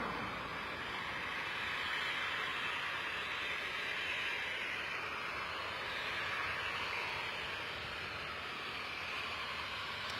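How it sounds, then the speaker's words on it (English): A Ryanair Boeing 737-800 departing Bristol for Gdansk makes a steady, moderately loud jet roar that holds even throughout, with a hissy high-frequency edge and no voices. "Yeah, definitely think 737 about to come past."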